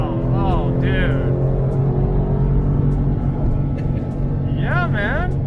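A 2004 Porsche GT3's engine drones loudly from inside the car as it accelerates in a steady low roar, while people talk over it and break into excited exclamations.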